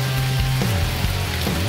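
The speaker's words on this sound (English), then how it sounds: "so it's starting to rain a little bit harder now" Rain falls harder and steadily, filling the scene with a dense, constant hiss, while a low droning hum, like an idling motorbike engine, runs underneath throughout.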